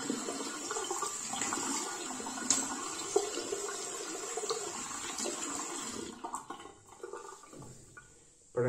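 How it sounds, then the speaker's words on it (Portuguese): A tap runs steadily as water rinses over a freshly wet-shaved face, a soft continuous splashing stream that thins out and stops near the end. "Vamos lá passar aqui por água."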